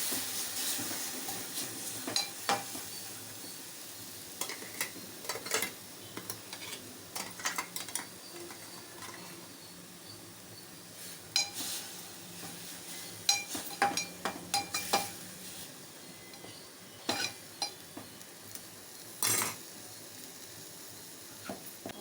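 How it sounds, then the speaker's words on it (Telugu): A steady, low hiss of blended tomato frying in tempering oil, with scattered sharp crackles and a few clinks of a utensil against the pan; no voices. "మిక్సీ వేసిన టమాటా కూడా తాలింపులో వేయించుకోవాలి"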